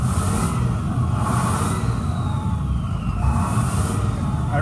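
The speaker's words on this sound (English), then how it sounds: "Let me rev it up for you." A 2007 Ford F-350 dump bed truck engine idles and revs with a rough, steady rumble, heard close by with no talking.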